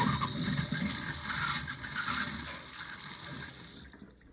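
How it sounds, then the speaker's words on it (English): Water gushes from a newly self-installed bathroom sink faucet into the basin, a steady close rush that runs for a few seconds and then cuts off abruptly. "Turning on the water after a self-install of a difficult plumbing project"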